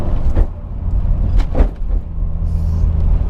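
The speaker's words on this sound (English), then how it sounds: "Now that would be the rear tyres." Rear tyre noise from a Nissan R34 Skyline on coilovers while driving, a steady low road rumble with a few swelling thumps and surges, heard from inside the car with no talking.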